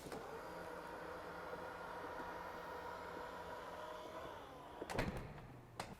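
A Range Rover Sport's power tailgate motor whirs steadily and faintly under background hiss, ending with a sharp thud as it latches and then a smaller knock.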